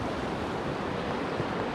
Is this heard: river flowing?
yes